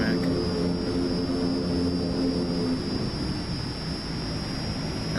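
Transall C-160 transport aircraft engines in a video game, a loud continuous propeller drone with a steady high whine running the full length, fading slightly toward the end.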